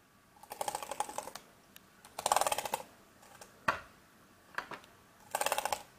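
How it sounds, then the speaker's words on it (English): Bursts of rapid typing on an MSI GE70 Apache laptop keyboard, close and crisp, arriving in several clusters separated by short pauses with a few isolated key clacks between them. "keyboard is operating exactly as it should now."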